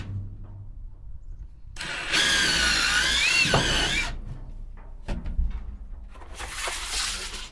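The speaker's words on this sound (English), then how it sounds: "Looks as though I have drilled that crooked." A power drill bores a hole in two bursts: a loud whining run of about two seconds, a pause with small knocks and handling noises, then a shorter second burst.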